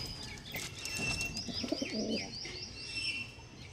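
Andhra Star Kalka pigeons coo in low, rolling calls while higher chirps and a brief flutter of wings sound nearby, fairly close and continuous.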